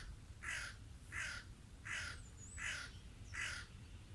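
A crow caws five times in an even, unhurried rhythm, each harsh call clear and moderately distant against a faint low background hum.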